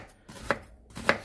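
Two crisp knife strokes cut through an onion on a cutting board for curry, spaced about half a second apart, close and fairly loud, with no talking.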